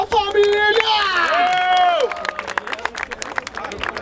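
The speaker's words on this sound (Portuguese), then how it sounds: "Palmas pra essa batalha, família!" A crowd at a rap battle cheers and shouts loudly, then breaks into rhythmic, scattered clapping that continues after the voices drop, close and lively.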